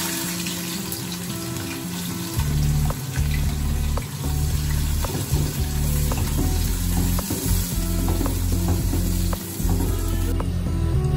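Onions frying in hot oil, a loud, constant close sizzle with occasional spatters and stirring clatter and no one speaking.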